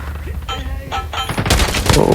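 Gunfire from the mobile shooter game Call of Duty Mobile, a few sharp bursts of shots in quick succession, loud and close, growing denser toward the end.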